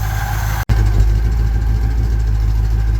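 A 1966 Dodge Coronet engine idles steadily at close range with a low, even rumble, briefly interrupted by a short dropout near the start, no voices.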